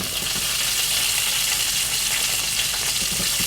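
Food fries in a hot pan with a steady, loud sizzle full of fine crackles and pops from spattering oil, continuous and close with no talking.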